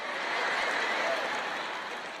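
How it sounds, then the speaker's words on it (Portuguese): Scattered applause fills a church or ministry gathering, a steady even patter of many hands clapping from a crowd at a moderate distance, sustained throughout without a clear start or finish. "Acho que temos algumas palminhas."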